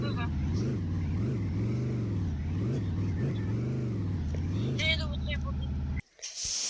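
A cartoon car drives away with a wavering, rising and falling engine hum that is loud and close, ending in an abrupt cutoff followed by a brief high-pitched effect.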